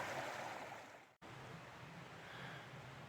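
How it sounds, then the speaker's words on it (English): A creek flows beside the Manistee River Trail in Michigan, making a faint, steady rushing wash with one brief dropout and no voices. "Lots of creeks."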